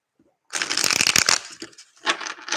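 Tarot cards riffled in a quick shuffle, a dense burst of crisp papery flutter followed by a shorter second riffle, close and fairly loud with no talking.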